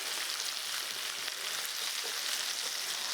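Sweet chilli tofu sizzling in a pan with a little salt, a dense, steady hiss of frying oil that stays even and close throughout, with no talking.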